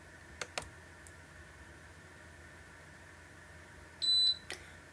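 A short electronic beep tone rings out from an xTool M2 laser engraver as it starts, preceded by a couple of faint clicks in a quiet room.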